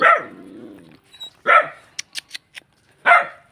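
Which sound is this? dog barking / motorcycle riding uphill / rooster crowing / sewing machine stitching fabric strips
dog barking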